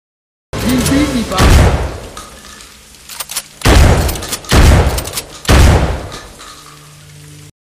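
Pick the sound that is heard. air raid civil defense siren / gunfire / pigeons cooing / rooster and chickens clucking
gunfire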